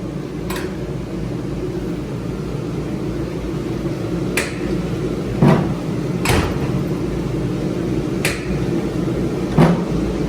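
Trunk lid on a 1955 gasser being shut after tail panel welding, heard as a few sharp metallic clunks and latch snaps spaced through the clip over a steady background hum in a shop.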